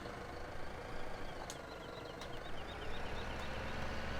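A tractor engine idles steadily in Farming Simulator 17, a low continuous rumble with no talk over it, a few faint higher ticks and clicks showing through.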